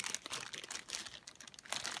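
Plastic packaging around a SteelSeries Apex 5 keyboard crinkles and rustles as it is opened, a series of soft, close crackling bursts with no talking.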